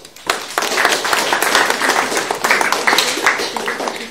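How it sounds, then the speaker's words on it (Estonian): Group applause at an IT and medicine idea presentation session, close, lively clapping that starts abruptly and continues evenly for several seconds. "Ja siis teeme suur aplausi."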